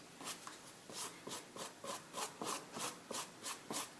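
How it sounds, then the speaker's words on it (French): Drying acrylic paint being worked with a Color Shaper tool gives soft, faint rhythmic rubbing scrapes, about two per second, close and quiet with no voice. "Et on entend d'ailleurs l'acrylique sèche."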